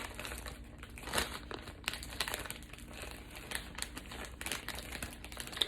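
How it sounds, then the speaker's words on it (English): An IV administration set is pulled from its plastic packaging with steady, close crinkling and rustling of thin plastic, punctuated by a few sharper crackles throughout. "And then we are going to remove our administration set from the packaging."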